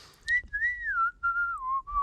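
A person whistles a single sustained, wavering melody line, close and clear, sliding gently down in pitch over a couple of seconds.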